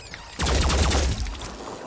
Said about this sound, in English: taking advantage here with the return fire